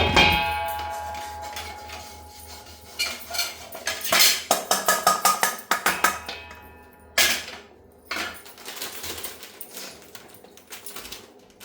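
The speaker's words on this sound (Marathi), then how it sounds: "आता आपल्याला खारीक भाजायची." Dried dates (kharik) being roasted in a pan, sharp rapid clicks and rattles of hard pieces knocked around by a spatula, in quick bursts of taps with short pauses, close and fairly loud, no talking.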